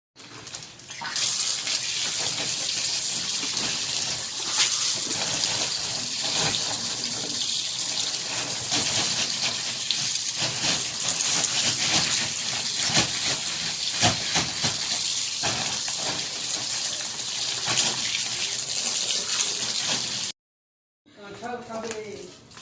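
Strong tap water gushes steadily for about twenty seconds over a cut jackfruit being washed at a faucet to rinse off its sticky sap, then cuts off abruptly, leaving only brief faint sounds.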